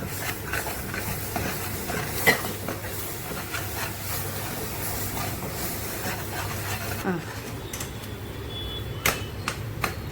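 Mutton pieces frying in a pan, giving a steady soft sizzle and hiss with scattered pops and stirring scrapes, fairly quiet and continuous throughout.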